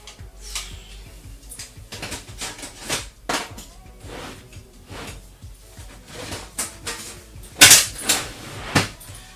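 Drawers and cupboards are opened and closed over and over in a room nearby. Wooden knocks, slides and clunks come in a busy, irregular rhythm, with one sharp rattling bang near the end.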